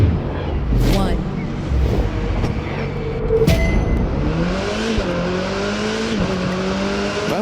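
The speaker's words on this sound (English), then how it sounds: "Today we are going to race with this gorgeous Mercedes SLS AMG in Detroit Motorflix Special on the Crew 2" A Mercedes SLS AMG races through Detroit in The Crew 2 from the cockpit, its engine roaring loud and close, revving up through rising gear changes with sharp shifts and tire noise, and music playing underneath.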